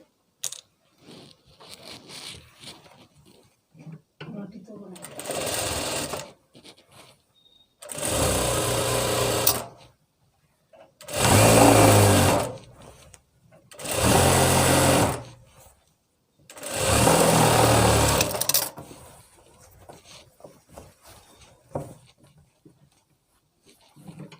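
Sewing machine stitching palazzo pants in five loud bursts of steady whirring, each lasting one to two seconds with short pauses between, over a faint background.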